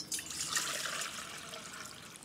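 Cold tap water runs steadily into a kitchen container while asparagus is prepared, a continuous bright splashing stream that is close and even, with no talking over it.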